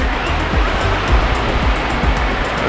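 Ocean waves at a beach in Mazatlán roar loudly and steadily, a close, dense wash of surf with wind buffeting the microphone.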